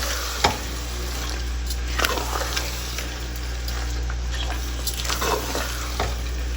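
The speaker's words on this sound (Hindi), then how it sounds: "इसको अच्छी तरह मिक्स करते हैं पालक को" Spinach and chicken are stirred in a frying pan, a low steady sizzle with a few sharper scrapes and clatters of the spoon at irregular intervals, close and moderately quiet.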